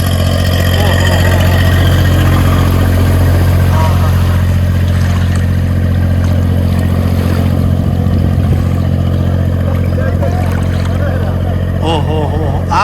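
A tractor engine labouring through deep floodwater after heavy rain, its loud, constant mid-pitched drone steady and close throughout, with people talking over it.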